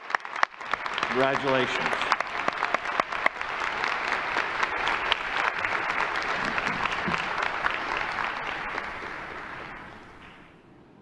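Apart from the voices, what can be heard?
audience applause at a university commencement ceremony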